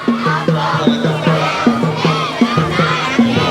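A student cheering squad at a fancy floating lantern contest in Lamphun, Thailand, chants loudly in unison. The shouts come in a steady, repeating rhythmic pattern of short bursts, close and energetic.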